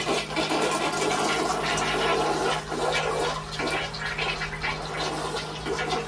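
An older hotel bathroom toilet in an Econo Lodge flushes with a steady, loud rush of water that swirls and drains without pause.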